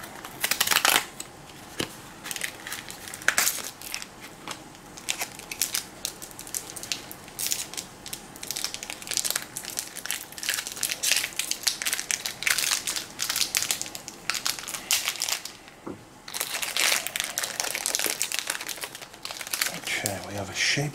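Foil wrapper of a Magic the Gathering Assassin's Creed collector booster pack being torn open and crinkled close up, with dense crackling bursts and a brief lull before more rustling.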